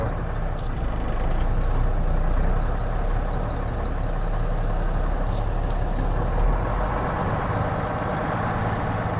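An old Mack R600 truck with a 12-speed overdrive transmission pulls away in gear, its engine a steady, loud, close rumble that drones on throughout without any speech.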